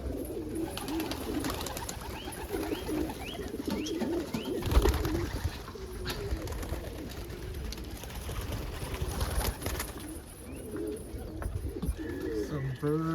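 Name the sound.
birds cooing in a pigeon loft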